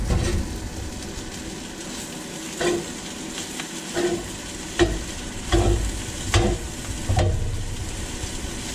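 Vegetables frying for homemade chicken fried rice in a cast iron skillet: a steady sizzle underneath, broken by about six rhythmic scraping stirs of a spatula against the pan, close and moderately loud, with nobody speaking.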